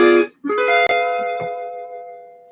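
Guitar plays the Scooby-Doo cartoon scene-change chords: a brief chord, then a sustained strummed chord with a couple of percussive string clicks, ringing and fading, close and unaccompanied.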